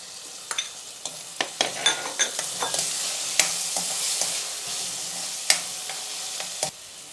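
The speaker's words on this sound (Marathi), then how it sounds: "आता यात मी 1 टोमॅटो बारीक कापलेला यात घालत आहे." Finely chopped tomato dropped into a hot pan of sautéed onion and ginger-garlic paste, sizzling steadily while a spoon stirs and scrapes in quick bursts of knocks, close and alone.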